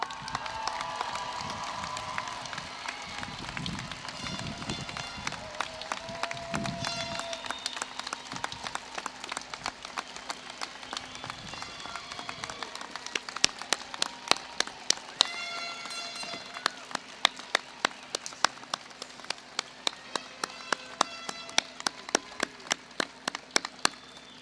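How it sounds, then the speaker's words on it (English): Scattered applause with sharp individual claps rises from the audience at a 2016 Oglethorpe University commencement, moderately distant over a room murmur, thinning to a few distinct claps toward the end. "Let's now recognize and applaud these outstanding graduates."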